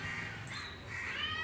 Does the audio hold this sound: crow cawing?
yes